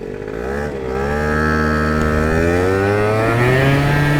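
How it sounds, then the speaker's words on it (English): A modified 50cc scooter engine accelerating hard, bogging briefly before rising into a loud, steadily climbing drone that holds strong to the end. "It's bogging at the beginning and then it takes a second to like get into it, and then once it goes, it goes."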